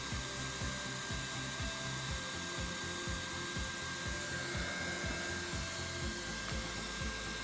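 A hot air heat welding tool runs steadily for the whole stretch while welding rod is pushed through a routed seam, giving a continuous blowing hiss over fast, regular low thumps and scraping.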